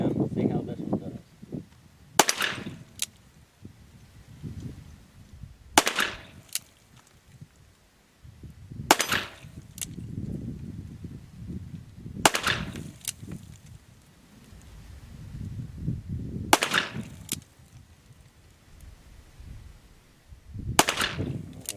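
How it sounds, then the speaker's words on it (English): A Smith & Wesson K Model 22 pistol fires single shots at outdoor rifle targets, six sharp cracks spaced a few seconds apart, with quiet rustling and faint murmuring between them. "Now let's shoot at those rifle targets over there again and see how this one does."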